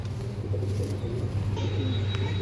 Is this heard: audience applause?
no